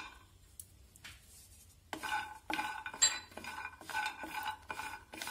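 Almonds are stirred in a pan with a metal spoon, giving soft, irregular scraping and clinking strokes that grow busier after a quiet start, heard up close in a home kitchen.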